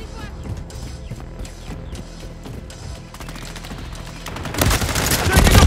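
Call of Duty Team Deathmatch on a Paris map, with dense game gunfire, rapid automatic bursts and scattered shots under a radio-style voice, swelling louder near the end.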